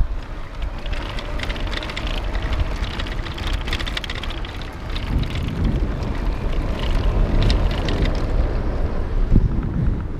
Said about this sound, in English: Now let's do that noise test with the fenders on this cobblestone stuff.